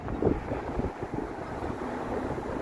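Gusty wind rushes between tall downtown buildings in Toronto near the lake, a steady low roar buffeting the microphone with no voices.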